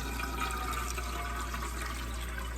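Running water rinses a batch of tumbled Petoskey stones from the Great Lakes, a steady, even wash of splashing flow close by with no voices.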